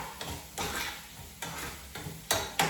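Onions fry in a pan with salt while a utensil stirs them, giving a soft steady sizzle cut by several sharper scraping strokes at irregular intervals, close and fairly quiet, with no talk.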